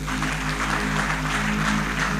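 A church congregation claps together at a prophet's temple-building service: a dense, steady wash of hand claps over a low electrical hum, fairly distant and even throughout.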